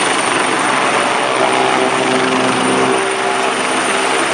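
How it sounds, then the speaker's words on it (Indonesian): A police helicopter flies overhead with a loud, steady rotor and engine drone lasting several seconds, with no voices over it. "ini helikopter polisi"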